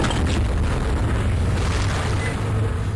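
A point-blank rocket explosion in Shadow Warrior, a dense, sustained booming blast with a heavy low rumble that holds steadily loud throughout, no voices.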